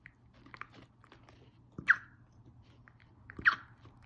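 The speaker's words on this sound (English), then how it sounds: "Do you love your chew bone?" A Cardigan Welsh corgi puppy gnaws on a chew bone, giving two sharp, close crunches about a second and a half apart over a quiet room with soft background noise.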